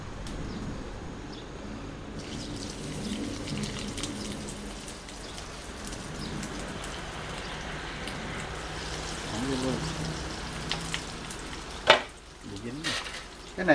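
Vietnamese spring rolls (chả giò) fry in hot oil, giving a steady crackling sizzle like light rain that continues throughout, with a few sharper pops and clatters near the end.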